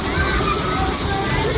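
Cold water rushes and splashes down a water park slide in a continuous loud sloshing wash, close up, with voices mixed into the spray.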